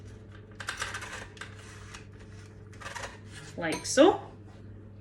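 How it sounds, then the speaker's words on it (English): Scissors snip into the corners of baking paper for lining a Swiss roll tin, a few close crisp cuts and rustles near 3.5–4 seconds, with a person speaking briefly. "I'm just going to snip into that corner by a couple of inches."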